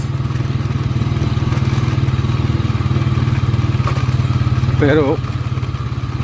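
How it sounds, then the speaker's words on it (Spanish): A motorcycle ridden over rough, bumpy streets, its engine a steady loud drone throughout with a brief louder swell near the end, while someone talks over it. "Así que por eso me llevo la motocicleta."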